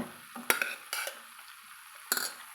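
Hot cooked rice being stirred into a tomato rice mixture in a pan, with a few quick, scraping spoon strokes against the pan, close and fairly soft.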